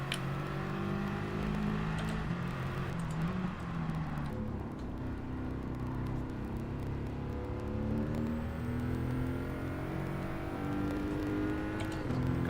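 A Mercedes-AMG GT R racing car engine in Gran Turismo 7 drones continuously, its pitch rising and falling through gear changes, steady and fairly loud with no voices.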